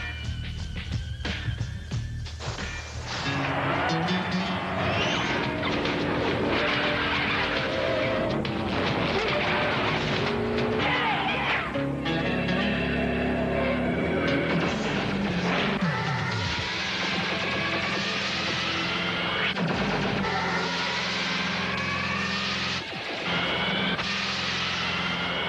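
Four-cylinder compact race cars for the ARCA Discount Auto Parts 200 at Speed Weeks 1997 lap the track in qualifying, their engines roaring loudly and continuously with passing surges and a broad mechanical din throughout.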